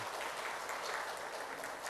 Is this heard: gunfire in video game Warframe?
no